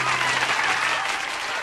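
A cartoon audience claps loudly in steady, continuous applause that is being measured by an applause meter, with no talk over it.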